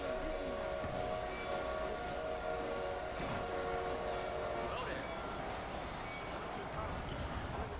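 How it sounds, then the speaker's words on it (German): Train in Red Dead Redemption on PS3 rolling past with a continuous rumbling clatter and a whistle-like tone, heard steadily throughout at moderate volume beneath a player talking. "Hab ich jetzt da gerade einen Zug gehört?"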